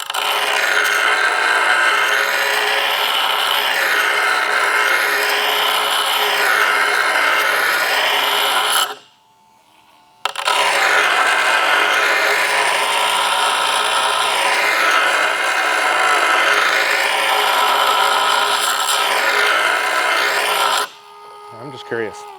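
A worn runner rubbed back and forth under light pressure to sharpen it gives a steady rasping scrape in long repeated strokes, close and loud, broken by a brief pause midway and ending in a short quiet stretch with a few taps.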